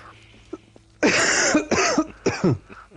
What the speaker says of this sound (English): after that coughing fit